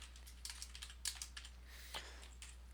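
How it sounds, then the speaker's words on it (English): Rapid, light keystrokes on a computer keyboard while code is entered during a C# programming lesson, faint and close, alone without talk. "So the next one, we're going to type in these Messagebox"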